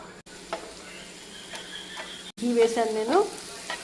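Carrot halwa with cashews and almonds frying in ghee while it is stirred in a pan: a steady soft sizzle with scraping spoon strokes that grow louder toward the end, and a brief voice speaking partway through.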